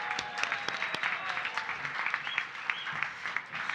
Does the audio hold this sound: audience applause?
yes